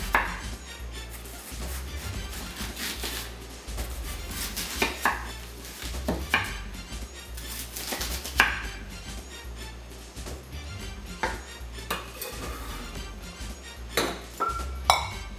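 A knife slices onions thinly on a cutting board for a quinoa kale salad, giving a long run of crisp irregular chopping taps with faint clinks, close and moderately quiet, no talking.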